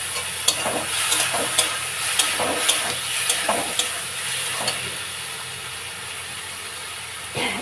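Onions with salt fry in a pan while a spoon stirs them, making a steady close sizzle broken by regular sharp scraping strokes about twice a second, then easing off.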